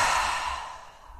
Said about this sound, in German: atmen wieder aus